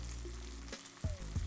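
Scallions dropped into a hot frying pan for a plant-based dairy-free Alfredo set off a close, steady sizzle, with a couple of brief clatters near the end as the vegetables land and shift.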